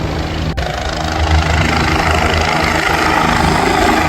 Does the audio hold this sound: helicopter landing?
yes